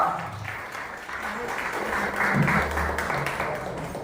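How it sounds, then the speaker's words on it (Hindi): A crowd claps to welcome a performer onto the stage at a Kathak dance event, steady applause that swells slightly midway, with a host's voice faintly mixed in. "तालियों से स्वागत कीजिए"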